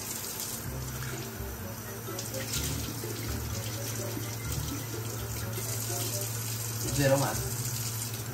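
Tap water runs steadily into a sink while dishes are washed, a continuous close gush with a brief louder splash near the end, as a voice talks briefly over it.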